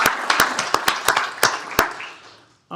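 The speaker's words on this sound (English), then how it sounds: "Let's give him a big round of applause." Sparse applause from a small group of people at a county commissioners court meeting: a handful of sharp, separate claps spread over about two seconds that thin out into quiet.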